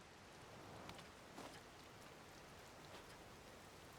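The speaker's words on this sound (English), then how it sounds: "you know that it's raining." Rain falls steadily in a video game, a faint, soft hiss of drops with a few slightly louder spatters, continuous and without talk.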